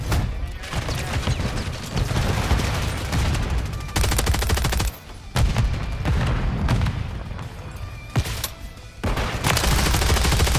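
Dense, loud video game gunfire in sustained bursts of rapid automatic shots with booming impacts, broken by a couple of brief pauses, close and continuous throughout.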